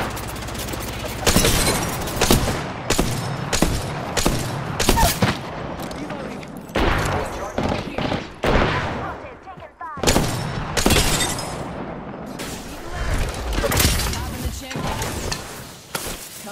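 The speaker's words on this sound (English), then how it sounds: "The enemies are shooting at me." Bursts of gunfire from an Apex Legends firefight ring out in clustered volleys with sharp cracks and brief gaps, loud and close, while game voice lines and talk sound over the action.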